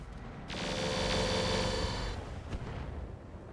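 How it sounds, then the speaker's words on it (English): A mortar explosion in the mech combat game RogueTech: one broad, roaring blast that swells quickly and holds for about a second and a half, then fades into a low rumble with a faint later thump. "those are like mortars or thermobarics there"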